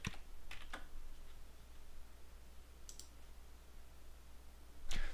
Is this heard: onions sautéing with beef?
no